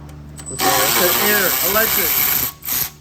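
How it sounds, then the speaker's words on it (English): An air ratchet loosens bolts on a built, boosted Honda K20 engine during a teardown, a loud buzzing whir lasting about two seconds with a brief second burst after, while someone talks over it. "Get up the air ratchet."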